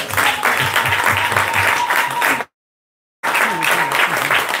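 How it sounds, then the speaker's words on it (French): Church congregation applauding for Jesus, loud sustained clapping that fills the room, breaks off briefly into silence, then resumes just as strongly. "Acclamez pour Jésus."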